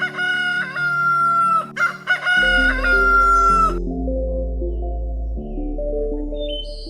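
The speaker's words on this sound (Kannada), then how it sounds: "ಅಯ್ಯೋ ಈ ಹುಂಜ ಅಂತೂ ಇಷ್ಟು ಜೋರು ಹೊಡಿತಾ ಇದೆ ಬೊಬ್ಬೆ" A rooster crows loudly twice in quick succession, a long stretched cock-a-doodle-doo, before steady low background music takes over for the rest of the stretch.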